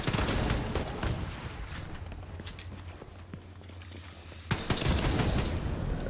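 Rapid automatic gunfire from a light machine gun in The Division 2 on PC, a dense, quick burst of shots that thins into scattered cracks and then picks up again, loud and close, with game sounds underneath.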